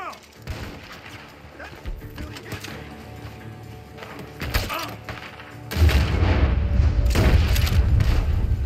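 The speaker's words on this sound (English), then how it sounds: "The gunshots are coming from that barn." Gunfire from a barn in Red Dead Redemption 2, scattered booming shots and thuds at varying distances, building to a heavier burst near the end, with some voices between.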